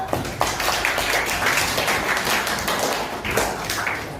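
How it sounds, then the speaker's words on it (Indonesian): Classmates clap for a student in an Indonesian school classroom, a dense, steady patter of many hands filling the room for several seconds without a break. "Tepuk tangan untuk."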